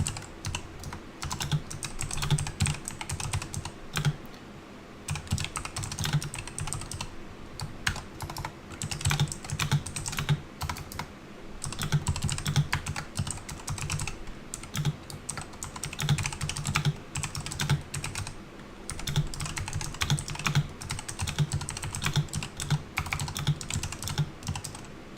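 Fingers type on a computer keyboard in quick irregular bursts of clicking, broken by short pauses, close and fairly soft throughout with no talking.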